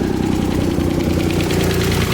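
A Nissan 300ZX engine idles loudly up close, a steady rough rumble with a slight knocking irregularity and no talk over it.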